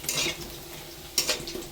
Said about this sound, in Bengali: দেখুন লাল লাল করে ভাজা হয়ে গেছে।